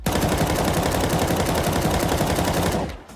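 A continuous burst of rapid automatic gunfire from Counter-Strike 2 runs loud and close for nearly three seconds, the shots hammering evenly before cutting off abruptly into quiet.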